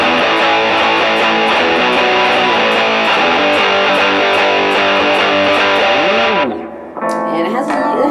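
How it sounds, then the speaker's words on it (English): Loud, dense distorted electric guitar chords on a punk setting ring steadily, then cut off abruptly and start up again briefly near the end. "when I put it to punk, well, distortion, it's gonna be like this."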